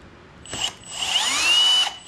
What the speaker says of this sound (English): See if this goes better with a little pilot hole.